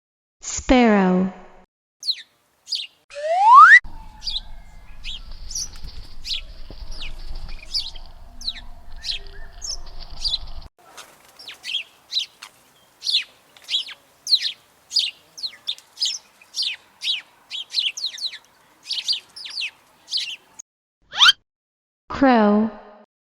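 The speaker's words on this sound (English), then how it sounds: "Sparrow." A sparrow gives a long run of quick, bright chirps in irregular bursts, loud and close. A voice speaks briefly at the start and again at the end.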